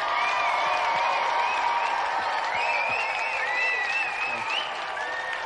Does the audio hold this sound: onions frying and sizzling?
no